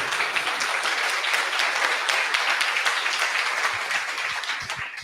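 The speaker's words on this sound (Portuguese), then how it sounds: "Dê uma salva de palmas para Jesus, gente." A church congregation at a Bible study on the Apocalypse gives loud, dense applause, with many hands clapping continuously and close up. It stays steady throughout with no speech.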